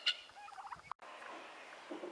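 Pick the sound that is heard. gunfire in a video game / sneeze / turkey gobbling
turkey gobbling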